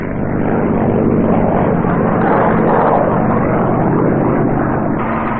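P-51 Mustang propeller fighter roaring down a runway in a fast, low pass: a loud, continuous piston-engine drone with a swelling and fading pitch, filling the whole stretch without speech.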